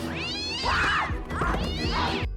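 Cat attack from the Scary Movie 2 scene: two loud, drawn-out yowling caterwauls with thumping scuffles beneath, close and intense, ending abruptly.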